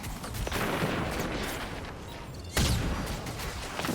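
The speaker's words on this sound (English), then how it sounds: "Then I'm going to use my rocket to take him out." Rocket launcher with tracking and arc damage firing at enemies in a Destiny 2 lost sector: loud, dense bursts of combat noise, then a sharp booming blast partway through with rumbling explosion tails.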